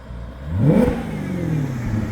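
A Maserati GranTurismo engine revs up with a rising whine that peaks then settles into a steady hum, heard close and fairly loud with no voices.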